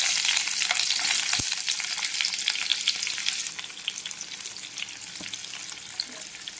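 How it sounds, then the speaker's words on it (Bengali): Onions hiss loudly as they hit hot oil, followed by a crackling fry that eases a little while a utensil scrapes and taps through the stirring. "এখন আমার পেঁয়াজ দিয়ে দিচ্ছি। এখন আমরা ভালো করে মিশিয়ে দেবো।"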